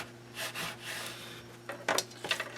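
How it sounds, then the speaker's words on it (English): Paper on a 6x6 mini album page is burnished, with soft close rubbing strokes in brief bursts and a few sharper scratchy passes near the end over a faint steady hum. "Get a little burnishing going here."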